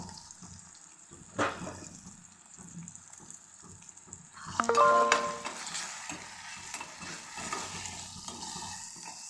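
Sprouted moth bean curry with turmeric and salt is stirred in a pan, with a soft sizzle and scraping, a sharp clatter, then a louder burst of frying hiss that settles into steady crackling.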